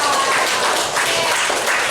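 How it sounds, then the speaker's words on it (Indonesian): A classroom of students claps for a student group, a short, dense wash of applause throughout. "Tepuk tangan untuk kelompok yang kebetulan."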